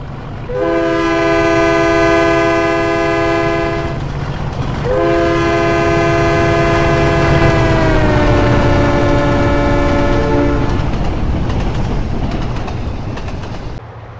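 A train horn in Trainz Simulator 12 sounds two long sustained blasts, followed by a steady low rumble of rolling rail cars.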